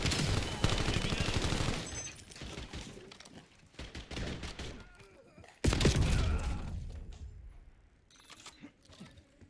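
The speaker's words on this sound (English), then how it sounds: "Is that the new LMG, I presume?" A new light machine gun fires in the Call of Duty Black Ops 7 shooter game. Loud bursts of rapid fire with sharp cracks come in clusters separated by brief lulls.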